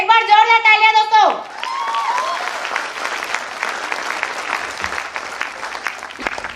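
An audience breaks into applause after a voice finishes speaking. Steady crowd clapping follows for several seconds at moderate loudness.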